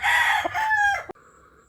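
Close, loud crowing from a fighting rooster at a village cockfighting gathering, one sustained call ending in an abrupt cutoff, followed by quieter background sound.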